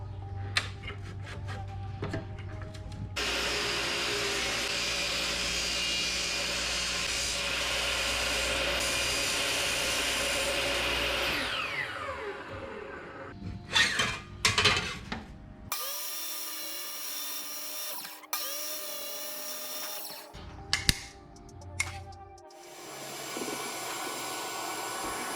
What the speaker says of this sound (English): after about 20 minutes of cleaning and vacuuming